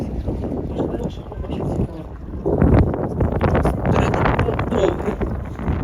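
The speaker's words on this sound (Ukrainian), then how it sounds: "Сильний вже вітер зараз." Strong wind at a seaside pontoon in Sharm El Sheikh, Egypt, buffets the microphone in rough, continuous gusts, with a heavy rumbling roar that surges louder partway through.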